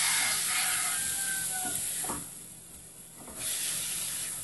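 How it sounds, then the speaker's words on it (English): Garlic and sweet red and green peppers sautéing in a pan give off a loud, steady hiss and sizzle that briefly dips, then swells back up, heard close with no talking. "Let these saute a bit."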